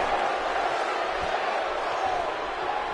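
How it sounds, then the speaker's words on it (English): A wrestling arena crowd roars steadily through an NWA TV title match, a dense, continuous wall of cheering and noise with no clear breaks. "This crowd really into this situation,"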